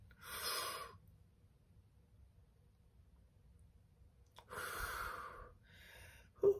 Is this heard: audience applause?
no